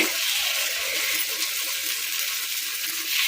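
Kuzhi paniyaram batter sizzles in a pan, a continuous bright hiss that stays steady and close throughout with no talking.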